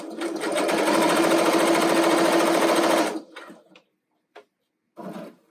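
A sewing machine topstitches a T-shirt in one rapid, rhythmic close run of stitching for about three seconds, followed by a few soft handling clicks.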